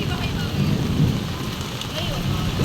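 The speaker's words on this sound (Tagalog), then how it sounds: "Grabe ang ulan." Heavy rain pours steadily during a thunderstorm, with a low rumble of thunder running under the dense downpour. The sound is loud and continuous throughout.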